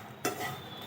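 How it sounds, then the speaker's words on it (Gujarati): Makhana (fox nuts) stirred in a pan over a gas flame, giving a short scraping rustle with a brief louder burst near the start and a faint sizzle after, no talking. "ગેસ ઉપર સતત હલાવશું એટલે એકદમ ક્રિસ્પી એવા મખાના આપણા રેડી થઈ જાય."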